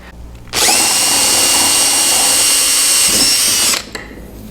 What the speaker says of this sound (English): the easiest way to drill this is kind of set it on the edge of your bench and drill your holes